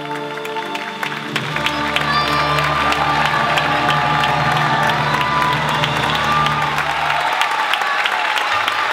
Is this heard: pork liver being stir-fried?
no